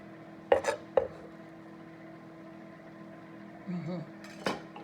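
Spinach and parsley go into a pot of shrimp and lobster Alfredo, with a few faint metallic clinks of a utensil against the pot, spaced apart over a quiet background.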